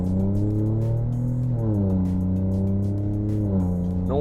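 An Alfa Romeo Giulia 2.9 Quadrifoglio engine hums with a strong, steady low note close by, its pitch climbing briefly twice as it revs, and no voices are heard.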